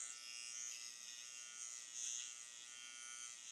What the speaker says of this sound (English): I'm fading with just the edge of the clippers